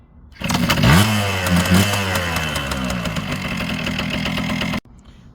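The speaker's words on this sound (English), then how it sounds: "Kawasaki KM100, just kick it." A Kawasaki KM100 motorcycle engine kicks into life and revs up loudly, settling into a busy, uneven idle before cutting off abruptly, with no voices.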